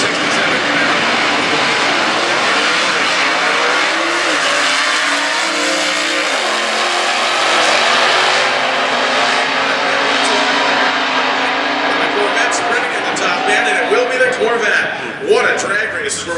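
A 1967 Camaro and a Corvette roar side by side down a drag strip in a stock class final at Indy, engines howling loud and sustained with rising pitch, crowd and announcer voice running underneath.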